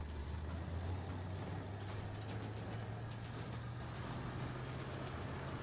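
A steady, low car engine hum from the video game Evil Dead: The Game drones throughout, idling with a faint rising pitch, with no voices.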